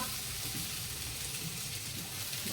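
Potatoes sizzle in a pan of cooking poha with a faint, steady frying hiss throughout, soft and continuous with no voices.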